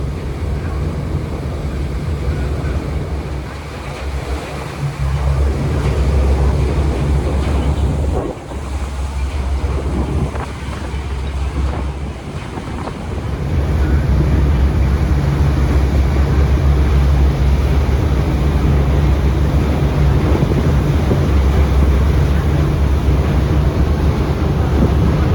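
Ferry pulling away from the Coupeville terminal, with steady wind buffeting the microphone and waves washing continuously along the hull, a loud low rumble throughout with a brief lull near the middle.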